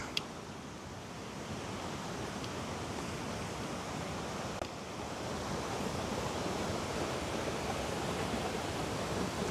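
Napne waterfall in Sindhudurg, Maharashtra, pours with a steady, dense rush of falling water, continuous and fairly close, with wind noise on the microphone and no voices.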